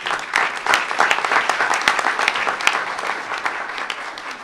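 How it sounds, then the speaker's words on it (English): At a regular board meeting, an audience gives a round of applause for three re-elected board members, a steady and moderately loud patter of many hands that holds through the stretch. "let's give all three of our re-elected board members another round of applause"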